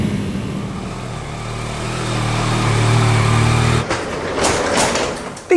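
A Yamaha XSR900 GP, an 80s/90s sports-bike-styled 900 motorcycle, revs hard as it accelerates, the engine note climbing steadily and loud before cutting off, followed by rushing wind noise and a shouted exclamation.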